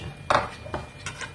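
A metal utensil splits a cooking egg in an oiled pan, giving a few sharp clinks and scrapes against the pan, with one louder hit followed by softer taps.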